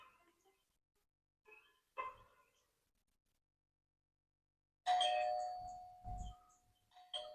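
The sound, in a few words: doorbell (calling bell) ringing in a movie scene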